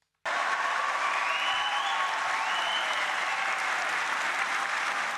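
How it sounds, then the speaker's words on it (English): An audience gives sustained, even applause to the chair of the infected blood scandal inquiry, a steady wash of many hands clapping at moderate distance. "Here he is being applauded by those who fought for justice."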